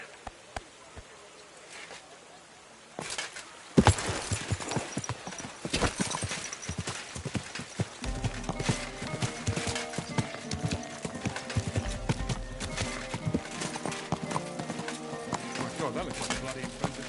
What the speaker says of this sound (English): God, that looks like a bloody expensive horse.